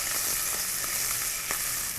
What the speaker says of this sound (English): I'm just going to stir that constantly for 30 seconds as it heats up.